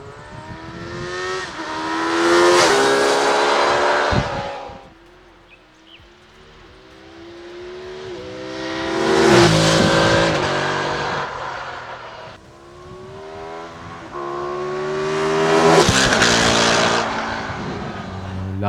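Naked roadster motorcycles, a BMW F900R, an Aprilia Shiver 900 and a Kawasaki Z900, rev their engines in three long separate sweeps, each rising to a loud snarling peak and falling back to a low idle between them.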